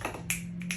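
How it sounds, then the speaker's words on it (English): Two or three sharp finger snaps close by, spaced apart over a steady low hum, with no talking. "Snaps, golf clap"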